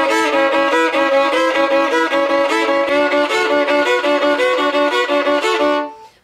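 A passage played with busy left-hand embellishments, a dense, bright, continuous stream of ringing notes in a fast steady rhythm, close and loud, ending with a quick fade.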